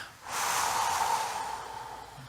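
Slow, deep breath during a guided breathing exercise, heard close and alone, starting after a short pause and tapering off over about two seconds.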